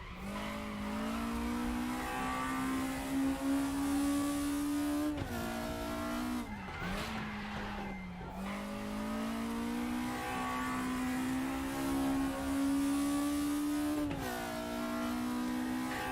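Race car engine in the RaceRoom racing game holding a loud, steady high-revving drone, dipping briefly as revs drop during a big slide through a corner, then climbing again, with a short tyre squeal; no talk.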